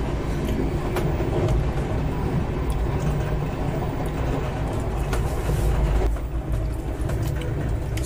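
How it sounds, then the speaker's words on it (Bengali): Loud, continuous broadband rumble and rattle of a Sealdah Duronto Express running at high speed at night, overtaking the Kaifiyat Express at Sikandarpur, with a steady roar throughout and a brief dip near the end. "Overtaking Kaifiyat express at সিকন্দরপুর।"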